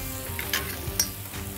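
Food sizzles in butter on a hibachi griddle, a steady close frying hiss with a few soft spatula scrapes and clicks, no voices.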